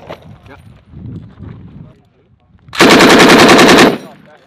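A loud, close machine gun fires one sustained burst of about a second during heavy weapons range training, after quieter stretches of people talking.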